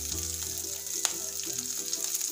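Green chilies crackle in hot oil while seviyan upma is being made, a steady close sizzle with small pops running without pause throughout.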